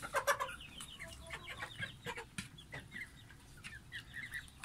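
A young Australorp or Rhode Island Red chicken of about four months clucks repeatedly in short, quiet bursts with a few higher chirps, heard close up with no talking.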